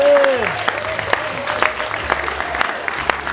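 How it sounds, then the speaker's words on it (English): Audience applause at a 25th anniversary celebration held in a hotel conservatory, a steady patter of hand claps lasting a few seconds with a faint voice speaking over it. "a round of applause for these wonderful ladies once again, Ma'am Carol and Ma'am Tonette."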